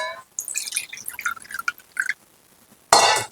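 Water poured into a bowl of sugar, about one and a half bowls' worth, gives a run of bright splashy drips and trickles with short pauses, then a louder final splash.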